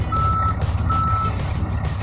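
A car carrier truck backs up, its reversing alarm giving two evenly spaced beeps over a low rumbling engine, with a faint high whine joining near the end.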